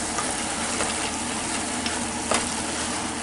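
Spaghetti sauce being stirred in a pot on the stove, a steady sizzling simmer with soft scraping stir sounds and a few brief clinks, no talking.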